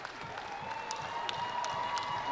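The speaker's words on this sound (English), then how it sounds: "Listen to that crowd." A squash match crowd breaks into applause and cheering, dense clapping building steadily in volume over a couple of seconds, with scattered shouts rising above it.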